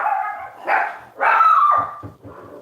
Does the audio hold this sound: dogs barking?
yes